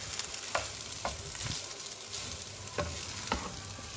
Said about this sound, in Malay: Kita goreng, kita gaul lah guys.